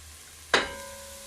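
Scallions frying in a pan for ackee and saltfish, with a sudden burst of sizzle as something hits the hot oil, then a steady, fading hiss close by.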